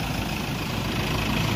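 A truck engine idles with a steady low rumble and constant level throughout, a dense, unbroken drone with no speech over it.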